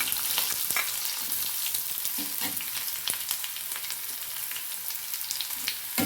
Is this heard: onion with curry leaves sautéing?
yes